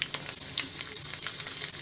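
Mustard seeds, cumin, fenugreek and four dried red chillies crackle and sizzle in hot oil, a steady close frying hiss with scattered sharp pops throughout.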